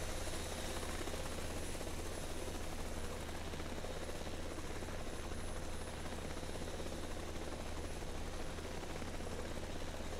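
A Bell 505 JetRanger X helicopter in a flight simulator game gives a steady, continuous rotor and turbine roar with a constant low throb and a thin high whine, unbroken and alone for the whole stretch.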